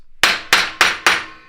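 A bronze hammer raps sharply four times on a Ford Raptor Gen 1 front Fox shock to loosen it, loud ringing metallic strikes evenly spaced about a third of a second apart, close up with no talking.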